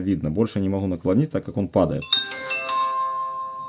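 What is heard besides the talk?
Volam 4K dash cam power-on chime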